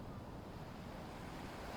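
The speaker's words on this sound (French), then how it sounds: "Les vagues arrivent du large" Soft ocean waves roll into a reef-sheltered lagoon, a faint, steady wash of surf blended with gentle wind noise, with no voices present.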